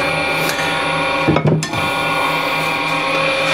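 Wood lathe spinning with a steady whine and tonal hum while a tool scrapes the turning workpiece, the cut briefly roughening and shifting near the middle before settling back into a constant drone.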